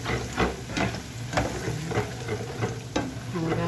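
Four eggs frying in a garlicky pan for fried rice, a constant sizzle broken by regular scraping strokes of a utensil about every half second, close and fairly loud.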